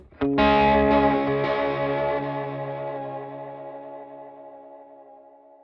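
A single distorted, sustained chord rings out through a Strymon Volante magnetic drum echo with feedback, a smeared echo trailing behind it, slowly decaying over several seconds.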